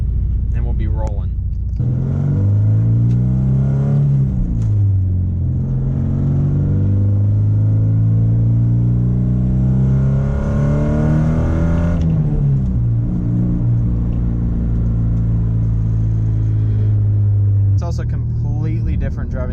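A Porsche 944 engine pulls hard while driving, its steady drone rising and falling in pitch through several accelerations over about twenty seconds, loud and close from inside the car.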